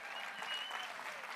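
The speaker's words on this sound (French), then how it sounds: "On applaudit tout le long la bière qui arrive." Audience applauding a beer as it arrives, a brief, fairly faint burst of steady clapping in a room.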